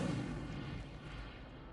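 An Incendio fire spell in Hogwarts Legacy gives a quiet, deep, rumbling whoosh that swells at first, then slowly fades.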